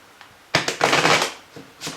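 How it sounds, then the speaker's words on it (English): A deck of cards is shuffled up close, a quick riffling burst followed by softer rustles and a brief second flutter. "Give them a good shuffle."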